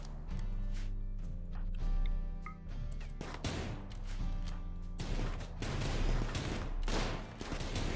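Rimworld gunfire: sharp, repeated shots and bursts crack over a tonal music bed, growing denser toward the end, with barely any talking.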